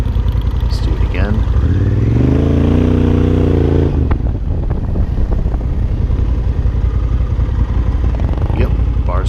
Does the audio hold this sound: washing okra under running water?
no